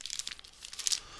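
Close, crisp crinkling of a plastic bag, a quick series of crackly rustles that rise and fall over about a second, with no voices.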